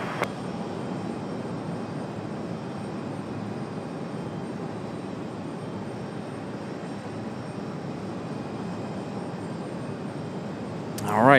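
Lufthansa Airbus A330 jet taking off from runway 23 right at Raleigh-Durham, a steady broadband engine roar holding for several seconds and swelling louder right at the end.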